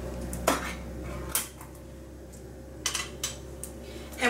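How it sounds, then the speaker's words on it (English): Cream of mushroom soup spooned over pork chops in a lightly greased 9x13 pan, a few sharp clinks of a spoon against the dish between quiet scraping, no talking. "we're going to spoon that over top of our pork chops"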